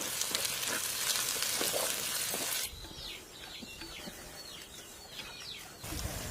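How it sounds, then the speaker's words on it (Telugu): Ginger paste and tomatoes hit hot oil with curry leaves, giving a loud hissing sizzle that eases into quieter crackling and stirring scrapes before the sizzle flares again at the end. "అల్లం పేస్టు, వెంటనే టమాటాలు వేసుకుని బాగా కలుపుకుందాం."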